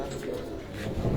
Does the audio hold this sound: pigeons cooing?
yes